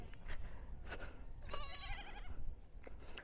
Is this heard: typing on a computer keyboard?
no